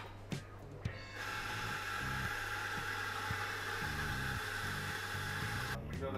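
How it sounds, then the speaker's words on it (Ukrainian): A portable generator runs steadily, powering an EcoFlow Delta Max charging station in a coffee shop, a constant mid-level engine drone with small clicks and knocks over it and brief voices at the start and end. "Генератор. Ми його підключили до нашої зарядної станції Delta Max."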